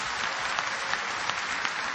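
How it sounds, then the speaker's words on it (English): Audience clapping at an Islamic lecture and debate, a steady broad patter of many hands with a few louder claps standing out, continuous and fairly distant. "you're clapping"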